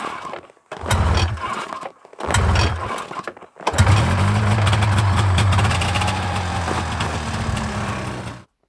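An old, powerful, high-torque snowmobile engine cranks in two short bursts, then catches and runs as a loud, steady rumble close by, with no talking.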